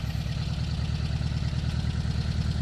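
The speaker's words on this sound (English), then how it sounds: "Hear that engine there." A classic Porsche 356 Super 90 idles nearby, its engine giving a steady, loud, low throbbing rumble with a fast even pulse and no voices over it.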